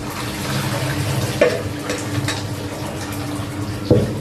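Water from boiled rice is poured off and drains out in a steady splashing stream, with a few louder gushes and no talking.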